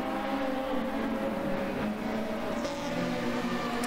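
Touring race car engine on the track at Paddock Hill, a steady close drone with a slight pitch dip, running loud and continuous with no talking.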